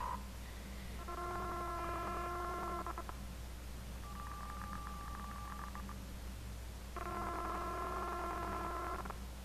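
Telephone dialing tones in the video game Rochard arrive in three separate bursts of layered tones, faint against a steady low hum, with no talk over them.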